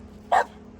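A single short, sharp bark from a dog near abandoned railroad tracks on rural property, fairly faint and heard once against quiet background noise.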